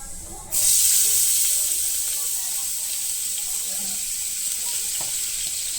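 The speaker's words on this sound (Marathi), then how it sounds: "आता आपण कांदा टाकूया" Onion dropped into hot oil for an egg ghotala sets off a sudden loud, steady sizzle that begins abruptly and holds strong and close, easing only slightly as it continues.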